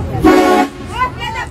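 A Hella or Vetor car horn blasts one loud, short honk up close, followed by faint background noise and murmuring voices.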